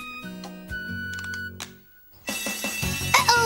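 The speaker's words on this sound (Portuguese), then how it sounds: "Estou a ouvir um alarme de incêndio" A bright electronic alarm rings in bursts, loud and shrill, after a stretch of music and a brief pause.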